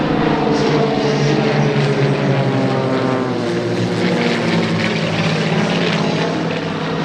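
Propeller plane with a 225 horsepower engine flying at the Wings Over Camarillo airshow, a loud steady droning engine roar with buzzing propeller harmonics and gentle shifts in pitch as it passes.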